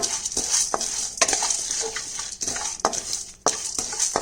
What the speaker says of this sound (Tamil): ஜீரகம் மிளகு எடுத்துக்கலாங்களா அதையும் இதில் போட்டு சிம்லேயே வச்சு பொரிச்சு எடுத்துக்கலாம்